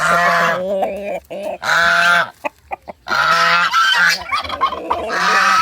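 A Rhode Island Red rooster, eight months old, crows loudly and close by in several long, harsh, honking calls broken by short gaps, with no voices over it.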